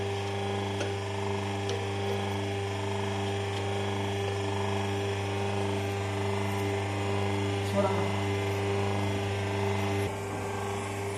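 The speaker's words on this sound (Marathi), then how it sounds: "ते आता केळी पान काढतो या मशीनवरती" A machine pressing banana leaf items runs with a steady, loud mechanical hum and whine throughout, a constant drone broken by faint clicks and a brief change near the end.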